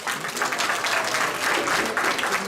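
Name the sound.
applause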